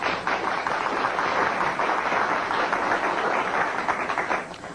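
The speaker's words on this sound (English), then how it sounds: "Let's give him a big round of applause" Studio audience welcomes a talk-show guest with sustained, dense applause, loud and even for several seconds before starting to fade at the end.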